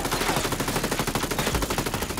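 Rapid, continuous machine-gun fire rattles in a video-game battle. The dense, evenly spaced shots run loud and unbroken for the full stretch.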